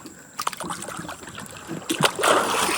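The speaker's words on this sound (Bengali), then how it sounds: "আর নৌকা নৌকার মতন চলছে।" A fishing boat glides across Sundarban water, its hull stirring soft trickling and lapping water punctuated by a few sharper splashes, close and otherwise quiet.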